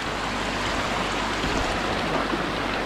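A woodland stream at a hiking-trail water crossing in the mountains rushes steadily, a dense, close, continuous wash of flowing water with no talk.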